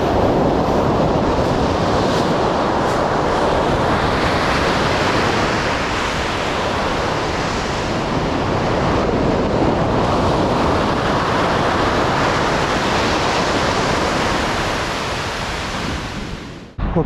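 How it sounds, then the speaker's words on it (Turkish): Ocean waves crash on a shore in eastern Iceland, producing a steady, loud broadband roar of surf with wind buffeting the microphone throughout and no voices. "Bakın dalgalara bak şimdi."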